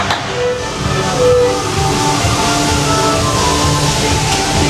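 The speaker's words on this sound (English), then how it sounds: "This train's headed straight for Main Street USA." Walt Disney World Railroad train at Magic Kingdom pulling out of the Fantasyland station toward Main Street USA, a continuous rumbling, hissing mechanical drone with a brief sharp burst near the start.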